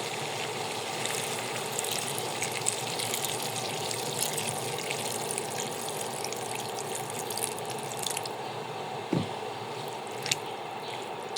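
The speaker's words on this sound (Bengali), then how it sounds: "এখন এখানে পানি দিয়ে দেবো" Water is poured into a pan of river-fish curry, giving a steady, fairly loud hiss and wet rushing that runs unbroken, with a brief low thump near the end.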